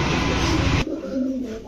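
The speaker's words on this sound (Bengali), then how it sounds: "খুবই অ্যাক্টিভ কবুতরগুলো মাশাআল্লাহ।" Domestic pigeons of Beauty, Lahori, Kokka and Giribaj breeds kept for sale cooing; a broad rushing noise cuts off suddenly, leaving soft low coos close by.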